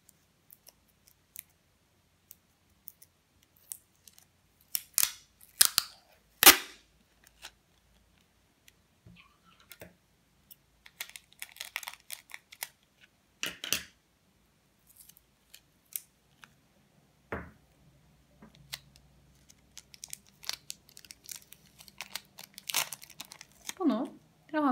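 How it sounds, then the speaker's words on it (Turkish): Packing tape is pulled off the roll and pressed down onto a table in short bursts of loud ripping and crinkling, separated by quiet gaps, with a few soft taps and rustles in between. "Koli bandımı alıyorum."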